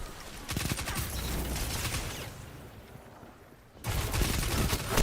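A submachine gun fires rapid bursts in the video game Destiny 2: a sustained rattling volley, a short lull, then another loud burst. No one speaks.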